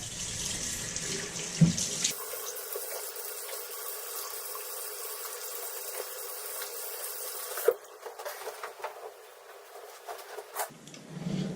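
A shaving razor is rinsed under a running tap, the water streaming steadily into a sink for several seconds before shutting off, followed by quieter drips and handling noises.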